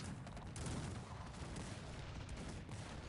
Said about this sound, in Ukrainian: Дивися, гармати пішли в хід.